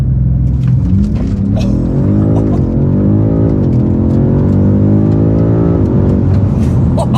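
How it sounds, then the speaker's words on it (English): A BMW M5 Competition launches hard using launch control, its engine roaring loudly and rising in pitch through quick gear shifts, the rumble close and continuous. "Now that is a proper launch control in this car"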